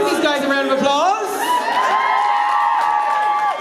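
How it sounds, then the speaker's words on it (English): Crowd at a live event cheering, whooping and shouting continuously, with loud voices layered over a dense, steady roar; no distinct clapping stands out. "Give these guys a round of applause."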